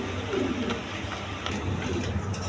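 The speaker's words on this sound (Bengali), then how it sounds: "এখানে এক পেয়ার কালদম কবুতর নিতে পারবেন।" A pair of Kaldom pigeons coo softly in a market loft, low murmuring coos over background noise, no speech.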